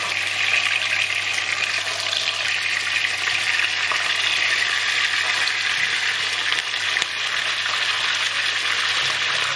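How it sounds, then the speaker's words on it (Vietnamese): Steady, dense sizzling of fish briefly frying in hot oil with ginger, loud and close, continuing without a break and with no voices. "Sau đó mình sẽ chiên sơ cá cho nó se cái mặt lại thôi."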